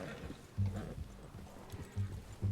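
Horse hooves clip-clop in a hunting video game, a few quiet, uneven footfall thumps with a soft whinny-like sound, low in level, while someone talks between.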